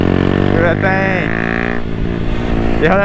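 Loud Honda Grom motorcycle engine running nearby with a steady, strong drone and pitch shifts as it revs and changes speed, while a voice briefly speaks over it.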